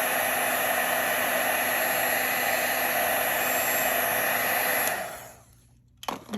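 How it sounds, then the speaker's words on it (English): A handheld heat tool blows a loud, steady whirring roar while heating embossing powder on Versamark for gilded leafing in card making, then cuts off abruptly, leaving near quiet and a brief clunk. "I'm going to take my heat tool and just heat this up, and you'll be able to see it change texture"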